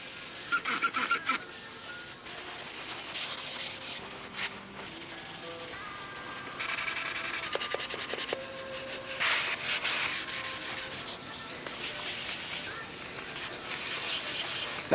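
Sandpaper rasps back and forth across a surface in repeated strokes, close and scratchy, with short pauses between bursts.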